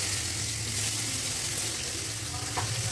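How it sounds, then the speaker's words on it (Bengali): Salted, turmeric-coated potatoes sizzling in hot mustard oil for a chicken curry, a close, continuous, even frying hiss with a faint clink partway through. "এর মধ্যে নুন হলুদ দিয়ে মাখানো আলুগুলোকে আমি একে একে তেলে দিয়ে দিচ্ছি।"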